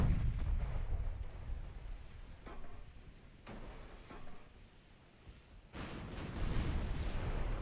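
A battleship fires a naval gun salvo in the Ultimate Admiral Dreadnoughts video game. Several deep booming blasts and rumbles overlap at a moderate level, with a short quieter gap before another heavy report.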